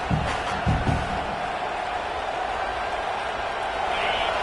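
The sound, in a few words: football stadium crowd noise on fourth down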